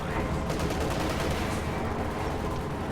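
Panzer IV tank guns firing on an Su-85 in a World War II video game, heard as dense, continuous rumbling gunfire and battle noise that fills the whole stretch at a steady loud level.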